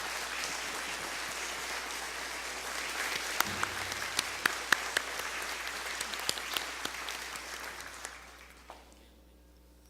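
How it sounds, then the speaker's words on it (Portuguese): Sustained applause from a crowd, a dense steady patter of many hands clapping for several seconds before fading out near the end. "uma salva de palmas a todos vocês"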